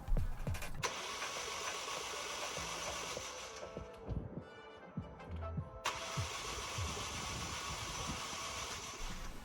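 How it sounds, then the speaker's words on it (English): A Ford car engine with liquid in one cylinder is cranked over on the starter, a steady rhythmic churning heard close up, pausing briefly midway before cranking resumes, with no talk. "I wanted to crank the engine a few times"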